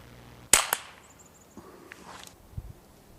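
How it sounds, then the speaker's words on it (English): A Goblin paintball handgun fires a single .68 caliber paintball with one sharp, close crack and a brief tail, followed by faint scuffs and a dull thud. "Here is 20 feet with standard .68 caliber paintballs."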